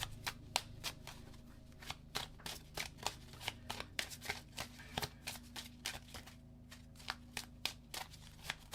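Tarot cards shuffled and pulled from a deck, heard as quick, crisp riffling and slapping bursts repeating in close succession, quiet and near, with no talking.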